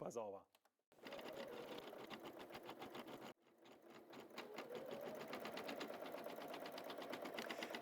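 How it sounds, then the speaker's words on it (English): A W6 sewing machine with an embroidery unit stitches in a fast, steady mechanical rhythm, close and continuous apart from a brief pause, with a person talking over it. "the start button becomes green and the machine embroiders the red 6"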